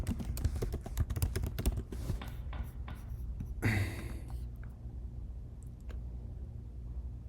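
Quick bursts of keystrokes on a computer keyboard as a search is typed, close and clear, followed by a single louder clack and a few scattered taps against a quiet room.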